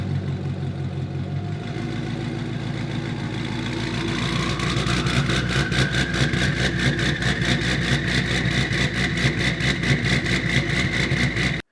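A 1000-horsepower Ford Mustang engine idles with a deep lumpy rumble, then the revs climb and settle into a loud, fast, steady pulsing drone that runs until an abrupt cutoff.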